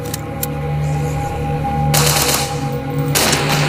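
Gunfire in a Momo horror video game: a couple of sharp early cracks, then two dense bursts of rapid shots that start abruptly, sitting over a steady electronic game hum.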